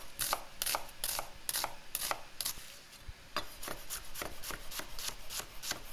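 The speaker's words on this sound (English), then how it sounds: "chop in an onion or a shallot" An onion being chopped on a board for Greek pastitsio, heard as a brisk run of crisp knife strikes in an even rhythm, close and clear, with no one talking.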